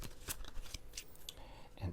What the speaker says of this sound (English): and do one more shuffle.